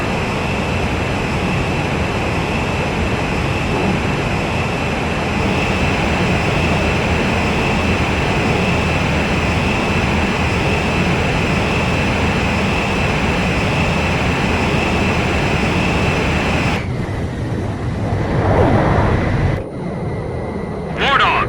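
Jet aircraft engines roar in the video game Ace Combat 5, a continuous loud whine and rush that holds steady, then briefly shifts and breaks up near the end.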